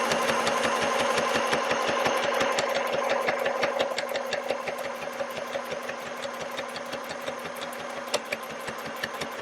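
A Singer M1000 sewing machine stitches through denim at its longest stitch length, a steady rapid mechanical chatter of needle strokes running close and continuous, slowing slightly toward the end.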